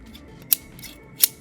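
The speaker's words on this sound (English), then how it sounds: "Dressmaker scissors for trimming" Dressmaker scissors used for trimming in a tufting setup snip twice, two sharp, bright metallic cuts about three quarters of a second apart over a quiet background, close and clear.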